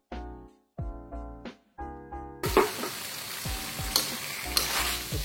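Dried beef dendeng tossed into dry, cooked balado spice paste in a pan: a few resonant metallic knocks first, then a sudden loud sizzle with scraping stirs and clinks running on close.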